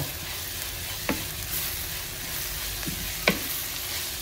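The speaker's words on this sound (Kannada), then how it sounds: "ಚೆನ್ನಾಗಿ ಫ್ರೈ ಆಗ್ತದೆ ನೋಡಿ" Mutton and cassava being fried in a pan for kappa biriyani, a steady soft sizzle over medium heat broken by a few sharp clinks of a spoon stirring against the pan.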